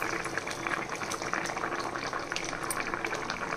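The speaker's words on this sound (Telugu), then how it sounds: "ఈ మామిడికాయ ముక్కలు వేసేసుకోవాలి" Raw mango pieces go into a simmering Nellore-style fish curry, heard as a steady, close, busy bubbling and liquid churning with small splashy ticks throughout and no voices.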